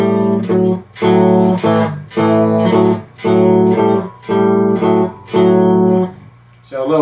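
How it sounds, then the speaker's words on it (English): Cigar box guitar playing a riff slowly, with repeated strummed chord bursts separated by short gaps, loud and close with no talking. "So slowly it would sound like this."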